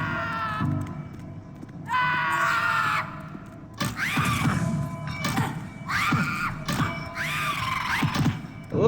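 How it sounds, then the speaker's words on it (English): Lizard creatures in the PC game Dungeon Keeper let out a run of high-pitched, harsh screams, about five or six loud bursts in close succession amid clattering battle sounds. "I love how these lizard things scream. With these high-pitched screams."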